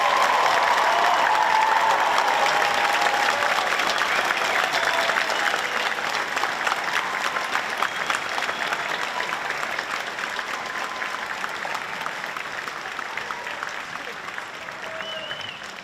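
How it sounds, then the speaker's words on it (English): Sustained applause from a large crowd at a police academy graduation ceremony, loud at first and slowly tapering over about sixteen seconds, with scattered whoops and cheers mixed in. "please let's give them one last round of applause"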